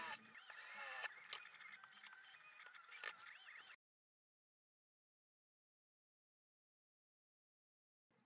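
A high, whining power drill with a 3.3 mm bit bores holes in a metal panel for a CNC router controller, running a few seconds with uneven surges and sharp bites, then cuts to silence.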